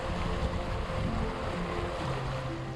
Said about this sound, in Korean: 해가 사라지고 차가운 바람까지 거세지니까 들어갈 엄두를 내지 못하네요. 호수에 파도까지 치고 있었거든요.